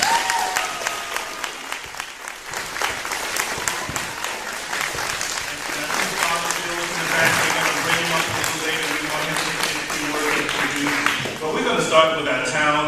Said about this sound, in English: why don't we just give her another hand of applause as well